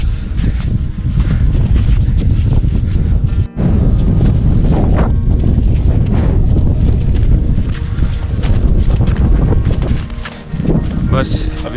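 Cold wind gusts hard across the microphone on a high glacier trail up Shrikhand Mahadev, a loud continuous roar with buffeting bursts and a brief drop near the middle; a person speaks throughout.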